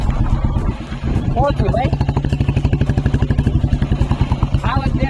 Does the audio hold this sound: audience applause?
no